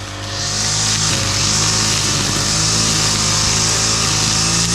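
A loud, steady engine whine from a brush-cutting machine runs continuously at close range in a mango orchard, with a brief dip in pitch as it bites into growth.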